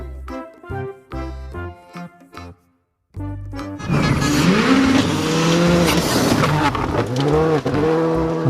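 A race car tears past with loud, continuous engine roar and sweeping pitch shifts that hint at tire squeal, following a few seconds of musical notes and a brief silence.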